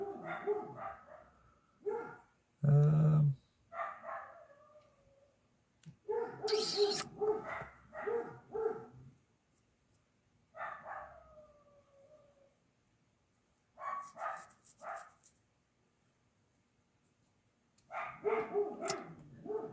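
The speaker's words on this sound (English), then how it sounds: "I wish the dogs would shut up." Several dogs bark indoors in repeated bursts, sharp barks mixed with yips and whimpers that come and go over about twenty seconds, with quiet gaps between the bursts.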